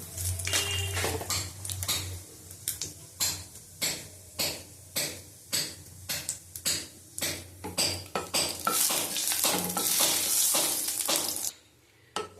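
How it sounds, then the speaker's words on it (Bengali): Fennel seeds and a dried red chilli fry in a little oil while a metal spatula scrapes and knocks the pan in a fast, regular rhythm over a steady sizzle. "একটা মৌরি আর শুকনো লঙ্কার একটা গন্ধ বেরিয়েছে খুব সুন্দর ভাজা হয়ে গেছে"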